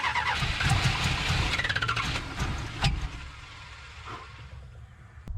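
A Mopar muscle car engine cranks repeatedly without catching, the starter whirring and squealing in bursts that fade toward silence, heard up close with no talk.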